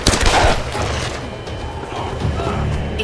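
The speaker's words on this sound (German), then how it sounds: "Da schießt jemand." Rapid bursts of gunfire in the video game Tomb Raider, dense and loud with rumbling blasts throughout a short stretch of game sound.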